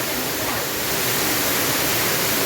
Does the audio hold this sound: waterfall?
yes